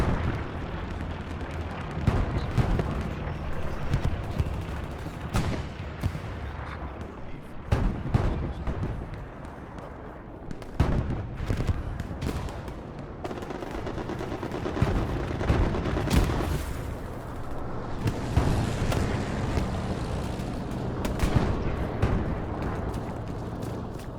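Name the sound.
machine gun fire in video game Hell Let Loose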